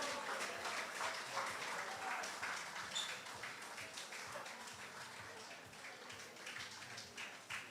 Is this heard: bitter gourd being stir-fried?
no